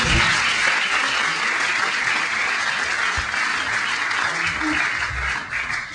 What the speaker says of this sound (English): I'll give them a round of applause about it.